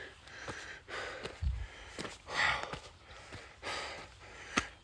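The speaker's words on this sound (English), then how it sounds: "You can hear me breathing" Heavy, rhythmic breathing of a runner on a trail run, close and fairly faint, with puffed exhales and a few sharp breaths repeating every second or so, no talk.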